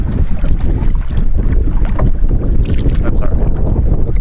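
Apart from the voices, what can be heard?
wind and whitecaps while boating on a lake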